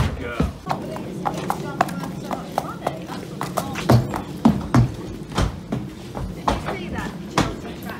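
Hooves of a show jumping and cross country horse clopping and shuffling as she is loaded up for a beach ride, an irregular run of close taps and knocks over steady background noise.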